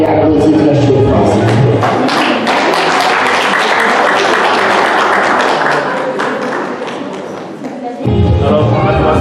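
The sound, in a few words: family applauding at wedding vow renewal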